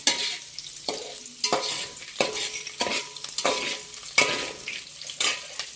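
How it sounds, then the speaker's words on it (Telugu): Onions sizzling in a pan while a spoon stirs them: a steady hiss broken by rhythmic scraping strokes about every half second to second, close and clear, with no voices. "ఇప్పుడు మనం ఆనియన్స్ వేసేస్తున్నాం."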